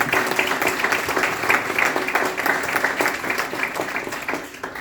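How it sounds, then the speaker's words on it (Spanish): An audience at a conference session on suicide prevention gives strong applause, steady and dense clapping filling the whole stretch without a break. "un fuerte aplauso para ellos"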